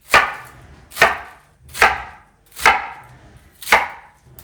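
A knife chops through napa cabbage for kimchi, five sharp, crisp cuts landing on a board at an even rhythm about one per second, close and loud with no talking.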